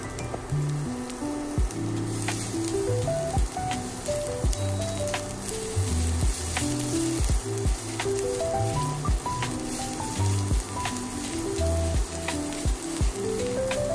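Garlic and ginger sizzle in hot oil in a pan for beef with broccoli, a constant crackling hiss with periodic stirring knocks, and background music running underneath.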